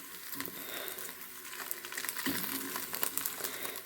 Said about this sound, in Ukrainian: То я грію млинці, обсмажую на сковородці.